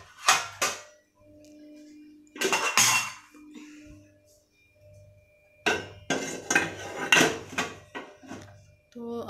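Washed utensils, pots and pans in a home kitchen are wiped with a dry cloth and set down, giving several loud bursts of close clinking and clattering separated by short quiet gaps.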